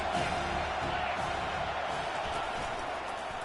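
In the NCAA 25 football video game, a stadium crowd cheers and roars as a steady, moderately loud wash of noise. A commentator's voice talks over the crowd throughout.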